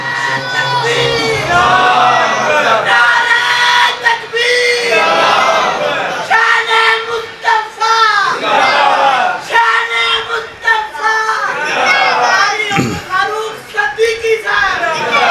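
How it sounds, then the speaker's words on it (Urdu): A large crowd loudly chants religious slogans in unison at a Rabi ul Awwal gathering, a roaring, sustained mass of voices with rising and falling waves of shouting throughout. "ماشاءاللہ بڑے جاندار نعرے مار دینے"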